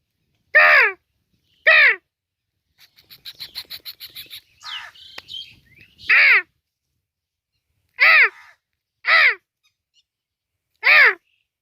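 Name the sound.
crow cawing from a tree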